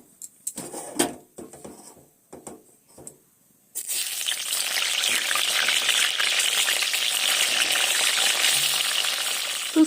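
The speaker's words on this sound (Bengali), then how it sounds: "এখন বেগুন একটু গরম গরম ভাজবো" Salted, turmeric-and-sugar-coated eggplant slices frying in hot oil: after a few seconds of scattered kitchen clatter, a loud, steady hiss of sizzling starts abruptly and carries on without a break.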